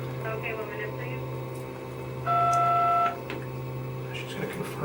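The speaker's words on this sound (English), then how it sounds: "No, we're just testing the elevator phone." Elevator emergency phone line during a test call: a steady two-tone call signal sounds for under a second, loud and clear over a constant hum and low background voices.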